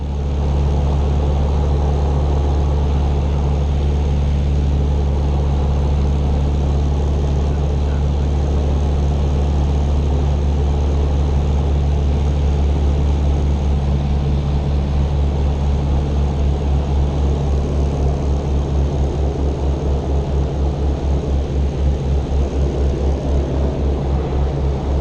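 A vintage Miles Falcon propeller aircraft cruises in flight, heard from on board as a loud, steady, droning engine and propeller roar with a deep throbbing rumble that stays constant throughout.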